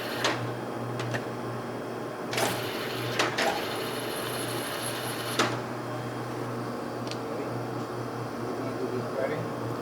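A 28/35 by 160 inch Mazak Mark II gap bed lathe runs on rapid traverse, giving a steady low mechanical hum with occasional clicks and brief higher whines at a moderate distance.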